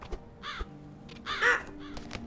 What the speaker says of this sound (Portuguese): eu não matei o corvo de novo